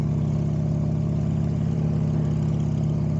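A Buell motorcycle engine runs close by, a steady, even, low rumbling idle with a fast regular pulse and no change in pitch throughout.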